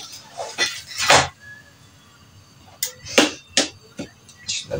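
Dishes and cutlery clink and clatter in irregular bursts, metal and ceramic knocking together nearby, with quiet gaps in between.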